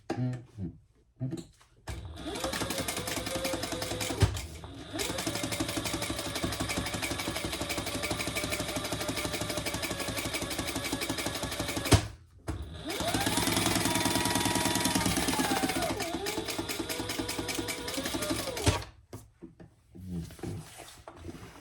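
A sewing machine top stitches fabric for a shoulder bag in two long, steady, close runs of rapid mechanical whirring, with brief stops and handling noise between them.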